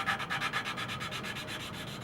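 New engine valve being lapped by hand with compound in a farm shop valve job, a steady gritty rubbing and grinding with a quick back-and-forth rhythm, close and fairly quiet, with no talking.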